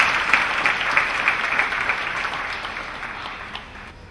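A church congregation claps together in a steady, lively wash of hand claps that fades slightly toward the end.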